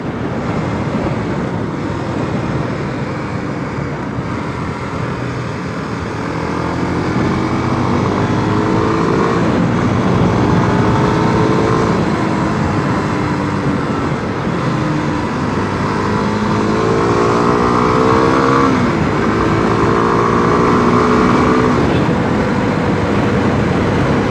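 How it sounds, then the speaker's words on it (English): Kawasaki D-Tracker 250cc motorcycle cruising around 100 km/h, a steady engine drone mixed with heavy wind rush, engine pitch shifting slightly as speed changes, continuous and close. "you can see cruising at 100 km/h is a pleasure with that bike"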